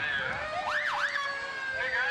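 A fire truck siren sounds at a fire muster parade, a brief wail that rises and falls once at moderate distance over a steady high tone and faint background noise.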